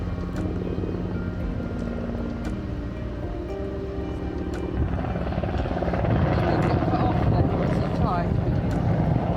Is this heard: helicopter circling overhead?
yes